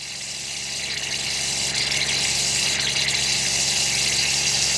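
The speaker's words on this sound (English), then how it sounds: "That's the air coming out of the tank." Steady rushing hiss of air forcing out of a camper trailer's hot water tank through a fitting, with a low watery pump-like rumble underneath, continuous and fairly loud.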